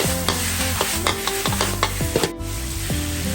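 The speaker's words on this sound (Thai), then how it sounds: "ผัดต่อให้เครื่องของเราสุกครับ ใส่กุ้งใส่เบิกได้เลยครับ" Shrimp and vegetables being stir-fried in a wok for drunken wide noodles: loud, close sizzling broken by a string of metallic scraping and clanking strokes from the spatula, with no talking.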